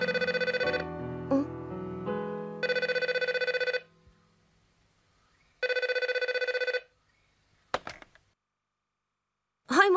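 An old-style telephone rings in the anime Crush Gear Turbo: two loud, bright electronic ring bursts separated by silence, the first over a low musical tone, followed by a couple of soft thumps.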